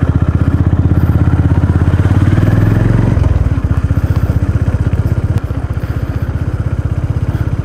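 A Honda CB350 RS motorcycle engine thumps steadily and loud up close, its rhythmic low pulse shifting as the bike pulls away and settles into riding, with no talking over it.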